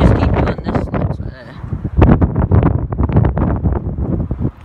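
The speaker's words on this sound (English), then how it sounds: "Sorry for the wind, guys. It's really windy today." Heavy wind buffeting a microphone at a railway level crossing, rumbling and gusting throughout, with people talking underneath.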